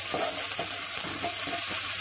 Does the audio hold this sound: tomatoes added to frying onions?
yes